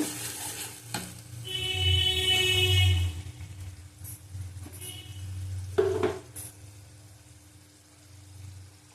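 Panch phoron spices and kakrol sizzle loudly in a hot pan while being stirred, with a steady frying hiss and a few brief scraping clinks. No voices are heard.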